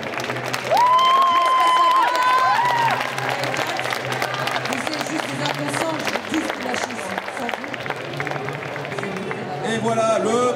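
Audience at a costume contest applauding and cheering a Grand Prix winner, dense sustained clapping with crowd noise under an announcer speaking over a microphone and music.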